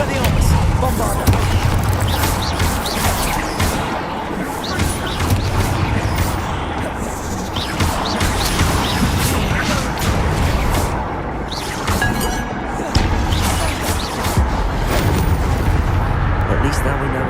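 A Bombarda blasting spell cast in Hogwarts Legacy, loud booming crashes and rumbling debris layered over dense game sound effects, with a voice heard amid the noise.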